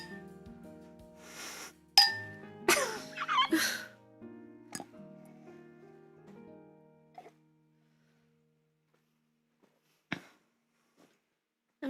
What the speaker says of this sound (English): Is this a clinking glasses battle now?